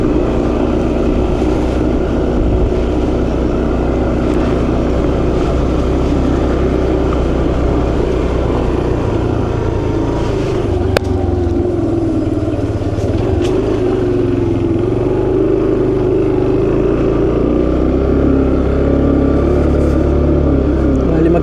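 A motor engine drones steadily throughout, loud and close, with road and wind rumble underneath, as if riding along on a motorcycle.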